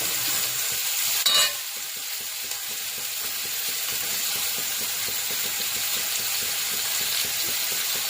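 Vegetables sauté in a pan for upma with a pinch of salt, giving a steady, close frying hiss with faint stirring scrapes throughout and a brief louder rustle near the start.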